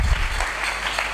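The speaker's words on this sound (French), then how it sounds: "Acclamons quand même pour le Seigneur" A church congregation applauding during a sermon, heard as a steady, dense wash of close clapping throughout the brief moment.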